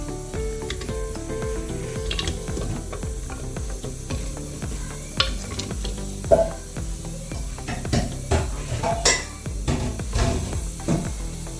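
Mutton pieces dropped into a clay pot for soup, a continuous close sizzle with scraping and clattering stirs and a few sharper knocks toward the end; no speech.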